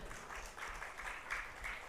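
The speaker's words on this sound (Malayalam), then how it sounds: "ഒരു വലിയ കയ്യടി എല്ലാവരും കൊടുത്തേ" Audience applause at a students' session of a book festival in Kerala, a soft, steady wash of clapping heard from a distance, rising and falling slightly for about two seconds with no voices over it.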